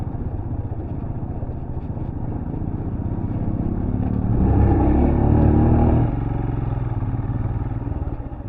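A guide's motorbike rides along a dirt track near Queenstown, New Zealand, its engine droning steadily with a rattling tone, swelling louder as it draws near midway, then easing back off.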